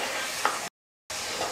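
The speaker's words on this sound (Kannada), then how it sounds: "ನಾನು ಒಗ್ಗರಣೆಗೆ ಹಾಕೊಳಕತ್ತೀನಿ ನೋಡ್ರಿ." Field beans frying in hot oil for a tempering give a steady close sizzle with light stirring, broken by a short silent gap before the crackle resumes.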